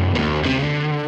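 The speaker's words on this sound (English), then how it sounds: "pretty much dousing the entire thing in spring reverb" Electric guitar tone drenched in spring reverb and fed through an analog tape machine emulator: a sustained, distorted chord with a fresh attack partway through, ringing and washy, loud and close.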